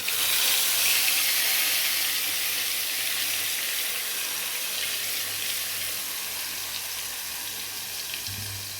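Ground tomato and chili chutney is poured into a hot pan for Andhra-style chili chutney, giving a steady broadband sizzle and hiss that runs loud through the whole stretch, with no voices.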